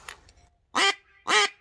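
A 3D printed single-reed duck call blown hard, giving two loud, raspy quacks about half a second apart after a faint opening note, close and alone with no talk.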